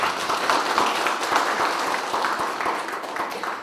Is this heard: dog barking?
no